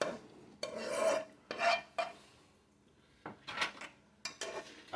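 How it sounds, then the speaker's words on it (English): A utensil scrapes and rasps against a non-stick pot in several short bursts with pauses between, close and fairly loud, with no talking. "Don't scrape my pot."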